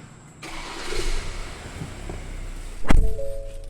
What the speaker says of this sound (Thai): สตาร์ทรถได้ครับ